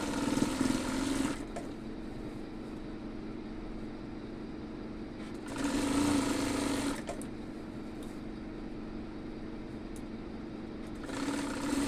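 Double-stitching a petticoat, a sewing machine hums steadily, with louder bursts of faster running at the start, middle and end.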